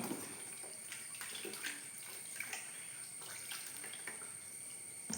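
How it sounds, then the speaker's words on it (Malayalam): Water sloshes and splashes softly in a basin as raw banana slices are rinsed by hand, with small drips and swirls throughout. "ഇനി ഞാൻ നല്ല വൃത്തിയിൽ കഴുകട്ടെ."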